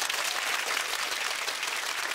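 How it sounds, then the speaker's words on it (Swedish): An audience at a live comedy show breaks into dense, even applause, many hands clapping at once with no voices above it. "Ge dem en applåd!"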